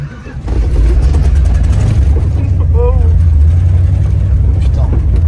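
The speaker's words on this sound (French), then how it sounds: "Alors j'essaye de faire un démarrage sans embrayage." A worn-out Plymouth car engine is restarted without the clutch, turning over into a loud, rough rumbling idle that carries on continuously, with a brief whining tone rising partway through.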